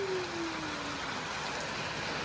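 Rain falls in a village, a soft steady patter of drops on surfaces at moderate distance, with a faint passing tone early on and no speech.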